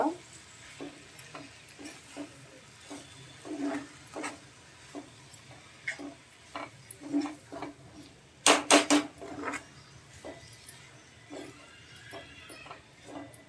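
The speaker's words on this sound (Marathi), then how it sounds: "आता जवळा कांद्यात परतायचा." Dried shrimp (jawla) sautéing with onions in oil in a pan, a faint low sizzle punctuated by scattered spatula scrapes and taps, including a quick cluster of sharp clanks partway through, with no voices.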